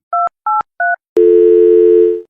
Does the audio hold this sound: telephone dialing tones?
yes